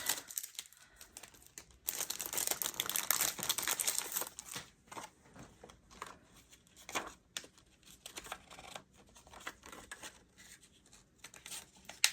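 Stickers being peeled off, faint crinkling and tearing rustles in short irregular bursts, close and quiet.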